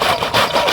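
An engine at a rural farm plot, where water is being filled, runs loud and close with a quick, pulsing, rhythmic chug over a brief moment.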